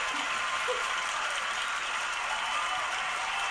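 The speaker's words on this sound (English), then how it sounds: "We got to get the applause going." Applause fills the room as a steady, even roar of clapping that holds at constant loudness from start to finish, with no voices on top.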